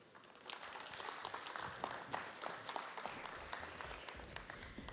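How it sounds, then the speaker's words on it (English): Audience applause at a financial services and AI conference, a steady, fairly distant wash of many hands clapping that fills the whole stretch without pause. "keep that applause going"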